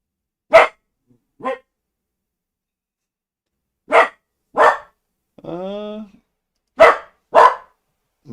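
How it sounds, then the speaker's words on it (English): Max the dog lets out repeated sharp, close barks in irregular pairs and singles, with a brief whine or yelp in the middle. "Max is barking"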